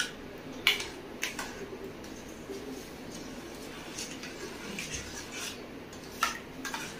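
A ghee mixture being stirred fast in a pan gives a soft, constant scraping with a few sharp metallic clinks against the pan's edge, up close and with no talk.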